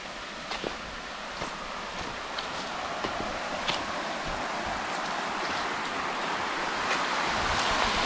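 Water flows down a hillside into a mountain stream near a lake in the Nainital hills of Uttarakhand, a steady broadband rush that swells slightly toward the end, heard alone with faint ticks.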